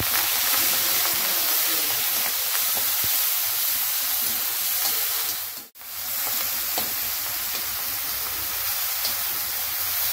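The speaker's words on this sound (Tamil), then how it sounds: "இப்போ குழம்பு தாளிக்கலாம்." Loud, continuous sizzling and crackling of spices tempering in hot oil for a Tamil kuzhambu, close up, a steady hiss with one brief dip midway.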